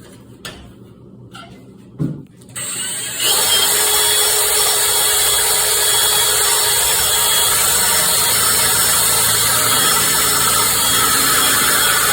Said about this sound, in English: then you have to drill a 1/4 inch hole